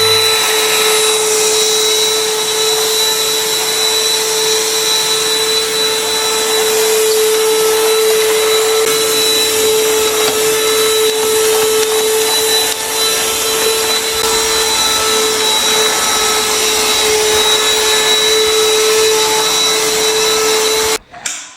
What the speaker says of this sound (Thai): เรามาลองเปิดเครื่องดูดฝุ่นกันดูนะครับ กดสวิตช์เปิดเลยครับ